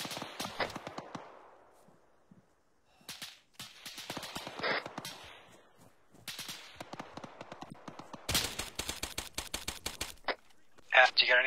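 Gunfire during a Halo squad training session, scattered sharp cracks and rapid bursts, some near and some distant, with quiet gaps between volleys.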